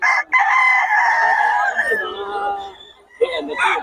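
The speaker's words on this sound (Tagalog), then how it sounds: "Puro solid manok ni Boss Perry, oh" A pumpkin sweater gamefowl rooster lets out one loud, drawn-out crow close by, trailing off near the end before a burst of voices and background noise.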